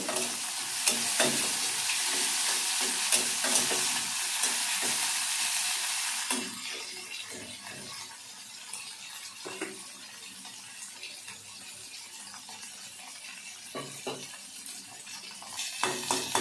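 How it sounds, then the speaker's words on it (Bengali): Prawns fry in hot oil in a pan, a loud steady sizzle that eases after a few seconds into quieter crackling, with occasional clinks of a stirring spoon. "কিছুটা তেল দিলাম, চিংড়ি মাছটা দিয়ে দিলাম, এর একটু ভেজে নেব"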